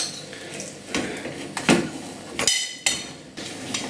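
A utensil taps and knocks against hardened, solidified residue of boiled Coca-Cola in a metal pan, giving several sharp, close metallic clinks and thuds at irregular intervals.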